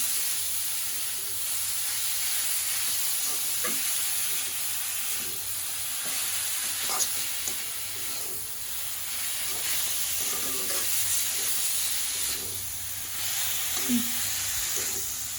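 Leafy greens sizzle steadily in a hot pan for the whole stretch, a constant broadband hiss with faint scrapes and stirring clicks scattered through it, close and moderately loud.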